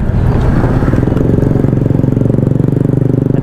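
A Honda PCX 160 scooter engine drones steadily up a climb, close and loud, with a rapid, even pulsing throughout and no talk.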